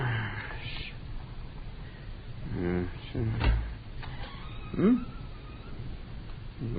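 A radio drama sound effect of a cat meowing twice, with a door knocking or closing between the meows, against a steady hiss in the background.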